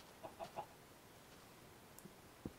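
A chicken clucks in a video game: a quick burst of three soft clucks early on, then faint scattered clicks and a low, quiet background with no talking.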